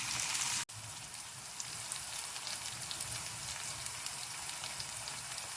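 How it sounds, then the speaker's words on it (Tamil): Onions frying in oil, a steady bright hiss and crackle that runs on evenly at moderate volume after a brief break at the start. "வெங்காயம் நல்லா எண்ணெயிலேயே வேகணும்"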